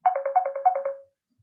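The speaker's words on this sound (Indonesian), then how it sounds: "Bentar ya, ada telepon, bentar aja" A telephone ringtone in a lecture setting: a short electronic melody of about ten quick rhythmic tones over roughly one second, clear and close, with no talk over it.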